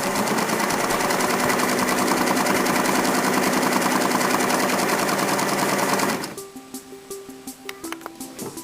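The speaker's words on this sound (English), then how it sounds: "Your foot pedal, apply power to stitch back up to the top mark." A Singer sewing machine stitches one side of a buttonhole in a loud, steady, rapid run for about six seconds, then stops, leaving quiet clicks and handling noises.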